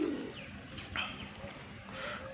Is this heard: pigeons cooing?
yes